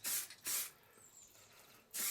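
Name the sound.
spray painting a model steam boiler chimney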